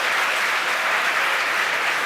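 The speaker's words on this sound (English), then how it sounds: "You hear the crowd cheer behind me." A crowd cheers and applauds during a SpaceX Falcon Heavy launch (STP-2), a dense continuous roar of clapping and cheering, loud and unbroken, with no talk over it.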